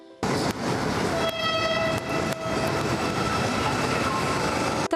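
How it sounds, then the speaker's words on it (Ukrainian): A Ukrzaliznytsia passenger train bound for Kramatorsk in Donetsk region rolls past loudly and continuously for the whole stretch, with a steady rumble, a sustained horn-like tone partway through and a few sharp clanks. "Вперше за півроку Укрзалізниця запускає потяг до Краматорська, що на Донеччині."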